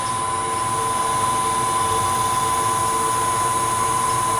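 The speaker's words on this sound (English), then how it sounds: "I can see the steel wool pulling that sawdust right off the surface." Steel wool pressed against redwood burl spinning on a woodturning lathe gives a steady, close whine and hiss that holds even and unbroken throughout.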